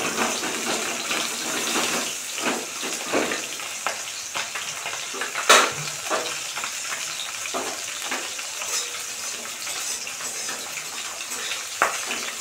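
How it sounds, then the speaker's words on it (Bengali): Fish and vegetables frying in hot oil in a home kitchen: a constant crackling sizzle with occasional louder pops and stirring scrapes, close and steady with no talking. "সব ভাজা হচ্ছে।"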